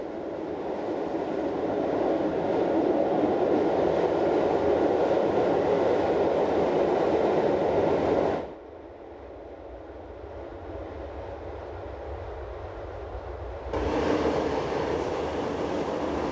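A train rolls along the Swiss VHB Emmental railway near Huttwil with a steady rumble of wheels on track, briefly dulling to a quieter muffled hum midway before the fuller running noise returns.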